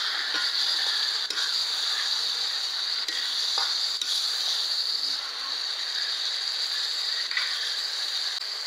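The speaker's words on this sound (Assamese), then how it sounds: "এতিয়া মই পালেং শাকখিনি ধুনীয়াকৈ আলু আৰু তেলখিনিৰ লগত ধুনীয়াকৈ লৰাই লৈছোঁ" Spinach stirred and fried with potatoes in hot oil in an Assamese home kitchen, a steady close sizzle with repeated scraping and clicking stirs throughout, no talking.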